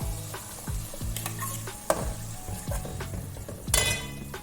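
Spice paste goes into a hot pan for egg curry, sizzling and frying under steady stirring, with repeated scraping strokes, a light metallic clink partway through and a louder burst of sizzle near the end.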